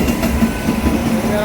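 The Kerala Superfast Express rolls into the second platform at Changanassery station, a brief steady rumble of wheels and carriages nearby.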